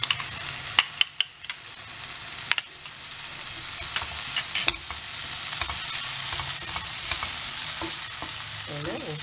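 Spices and vegetables sauté for a vegetable masala, a steady close sizzle with occasional stirring clicks and scrapes of a spoon against the pan, the frying hiss thickening and holding steady toward the end.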